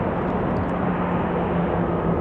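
A JetBlue airliner arriving from JFK lands at Raleigh-Durham, a steady wash of engine rumble and hiss with a faint tonal hum running underneath.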